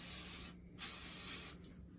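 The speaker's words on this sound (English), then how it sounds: "I'm using the butter flavored spray. You're going to spray the top of those" Two hissing bursts of butter-flavored aerosol cooking spray onto pizza dough, a longer spray followed by a brief pause and a second, close and sharp.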